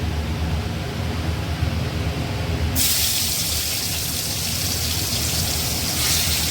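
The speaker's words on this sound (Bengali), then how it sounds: "চিংড়ি মাছগুলো ছেড়ে দিয়ে আমরা চিংড়ি মাছগুলো ভেজে নেবো" Marinated medium-sized prawns drop into hot oil, setting off a steady, loud hiss of frying that grows brighter and fuller partway through.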